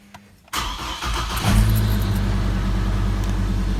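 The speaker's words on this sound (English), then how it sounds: "We're gonna hop back into the vehicle, start the truck" A Chevrolet Colorado pickup truck starts: the starter cranks briefly, the engine catches and revs up, then settles into a steady close idle.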